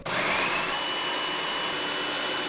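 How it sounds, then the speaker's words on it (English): A blender purees cooked sweet potato, a steady, loud whirring motor hum that starts abruptly and holds evenly until the end, alone without talk. "We're gonna press the puree button."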